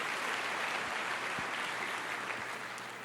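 Church congregation applauding during a sermon, a steady wash of dense clapping from a crowd, moderately loud and fading slightly at the end.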